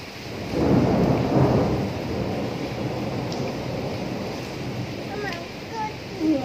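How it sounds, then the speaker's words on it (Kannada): Heavy rain pours steadily on a stormy day, driven by strong wind, while deep rolling thunder rumbles through the downpour and voices sound faintly beneath it. "ತುಂಬ ಜೋರಾಗಿ ಬೀಸ್ತಾ ಇದೆ ಮಳೆ"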